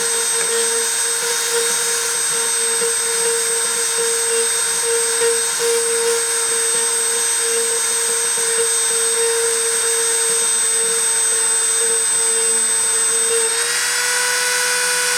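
A machine spindle runs at a constant speed, giving a steady, loud, even whine with no gaps, and its tone shifts slightly just before the end.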